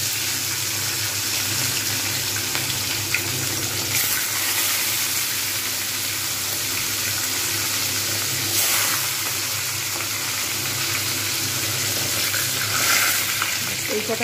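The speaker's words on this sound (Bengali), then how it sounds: "সাবধানে, ভেটকি মাছ আবার ফের তেল ছিটকাতে শুরু করে" Bhetki fish fillets frying in hot oil, a steady close crackling sizzle with constant spitting and popping that runs evenly throughout with no voices.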